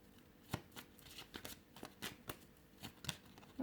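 Quiet, close riffling and flicking of tarot cards being shuffled and drawn, a run of light papery snaps and slides with no voice.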